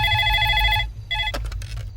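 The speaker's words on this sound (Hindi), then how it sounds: "इस नंबर पर फोन करना है।" Telephone bell ringing in repeated electronic bursts, loud and close, pausing briefly before ringing again, followed by a few faint clicks.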